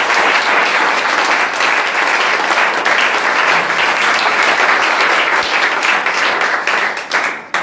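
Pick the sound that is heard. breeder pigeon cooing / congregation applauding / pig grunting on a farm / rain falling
congregation applauding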